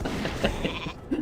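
Sheep bleats from a polymorph spell in the World of Warcraft video game, a short wavering bleat layered over game ambience and background sound, no speech.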